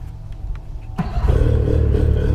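A Mercury outboard motor on an Alumacraft 1542 boat is pulled and catches on the first pull, sputtering briefly before roaring up into a steady loud run.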